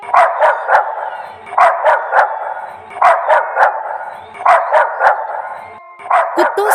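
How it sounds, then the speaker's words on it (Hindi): A dog barks loudly and repeatedly in quick bursts of two or three, sharp yaps close up with short pauses between volleys, alone without talk. "जोर जोर से भौंकने लगता है।"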